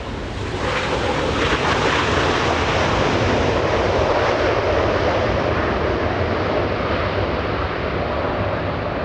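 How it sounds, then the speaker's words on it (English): An Asiana Airlines airliner slows down after touching down on runway 24 right at Los Angeles International Airport, giving a loud, steady broadband roar with gusty wind rumble that holds for the whole stretch. "Asiana Airlines slowing down on 24 right, taking Alpha Alpha to exit the runway"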